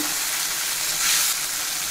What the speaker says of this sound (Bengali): পেঁয়াজটা ভাজা হয়ে গেছে, একটু পানি দিয়ে দিচ্ছি।